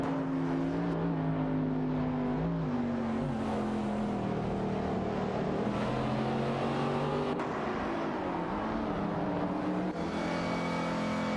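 Simulated race cars, a Lamborghini Huracan and a Caterham R500, engines howling continuously in a video game as pitch rises and falls through gear changes and cornering, loud and sustained throughout.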